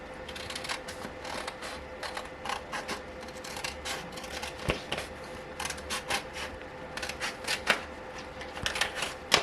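Excess vinyl being trimmed with scissors or a cutter at close range, a series of crisp snips and rustles coming in irregular bursts, some quick clusters, over a quiet steady hum with no voices.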